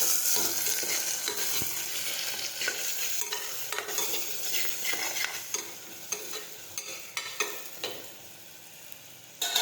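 Cluster beans and potatoes seasoned with salt and sugar sauté in a pan under a constant sizzle, with a utensil scraping and stirring in irregular bursts that grow more distinct toward the end.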